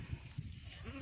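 Goats on a farm keeping native and Anglo-Nubian breeds let out a short, faint bleat near the end, over low background noise and a brief murmur.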